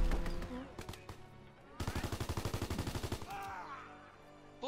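Airborne strafing run in Call of Duty, a steady rhythmic stream of heavy automatic fire lasting over a second amid other game sounds, preceded by scattered shots and tonal effects.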